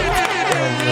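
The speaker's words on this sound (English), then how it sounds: "round of applause for Ming Li and Rakeen" Brief burst of crowd noise from an audience at an interview event in Miami, loud cheering and clapping mixed with voices for about a second.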